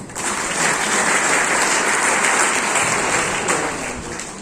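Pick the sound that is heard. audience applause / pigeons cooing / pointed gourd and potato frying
audience applause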